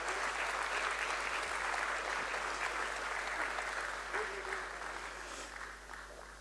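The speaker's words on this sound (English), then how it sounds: "the round of applause? Keep it going." An audience at a 40-year Sensex anniversary celebration claps in sustained, even applause that fades slightly toward the end, heard at moderate distance over a low hum.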